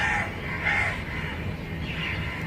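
A crow cawing nearby outdoors, a few harsh calls in quick succession over a low, rumbling background.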